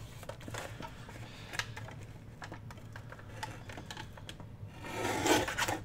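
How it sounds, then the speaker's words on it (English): Scissors trimming the crooked, still glue-wet end of a paper envelope pocket made from junk mail, soft scraping and rasping snips at close range, growing louder near the end. "Now I'm going to trim this end off because to me it looks a little crooked."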